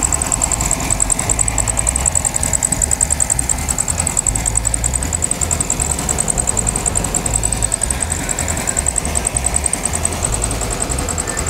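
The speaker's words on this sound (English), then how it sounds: "that's Volkswagen Beetle exhaust" A 1973 Volkswagen Thing (Type 181) engine idling through a Volkswagen Beetle exhaust, a steady, even rumble with a slight knocking pulse, close and fairly loud.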